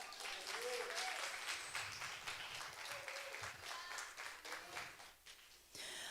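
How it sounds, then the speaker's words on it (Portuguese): Church congregation applauding during a worship service, steady dense clapping throughout with scattered voices in the background, dipping briefly near the end before resuming. "Pode aplaudir o Senhor."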